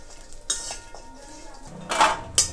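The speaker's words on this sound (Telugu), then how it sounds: "కడాయి పెట్టి ఆయిల్ లేకుండా పచ్చి కొబ్బరిని వేయించుకోవాలి" Fresh coconut dry-roasts in a kadai with no oil; a metal spatula scrapes and clinks against the pan in a few sharp, close bursts separated by quieter stretches.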